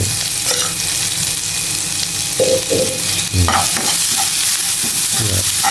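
Crushed garlic stir-frying in hot oil in a wok, a steady loud sizzle with the repeated scrape and clatter of a spatula stirring against the pan.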